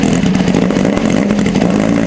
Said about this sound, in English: listen to this cold start from before